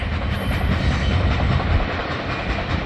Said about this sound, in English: That was a big heavy train right there.